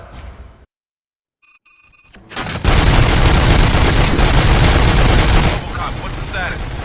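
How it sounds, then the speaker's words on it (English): A burst of rapid gunfire in the video game RoboCop: Rogue City erupts and continues loudly for several seconds, dense and continuous, after a short quiet gap and some beeping tones. "Gunshots? What's going on?"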